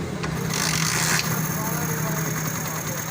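A motorcycle engine idles after a timing chain replacement, giving a steady low hum with a faint raspy mechanical texture and a short rubbing noise early on.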